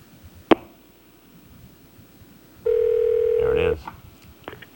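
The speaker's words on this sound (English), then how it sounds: "I think the phone is ringing." A telephone on a late-night talk show rings once with a single long steady electronic tone, preceded by a sharp click and followed by a brief voice.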